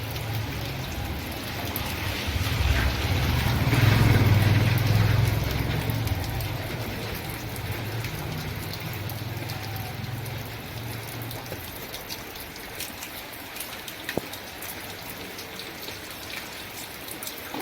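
Steady rain falls all day outside a home, a continuous hiss with a heavier swell early on, then settling into an even patter.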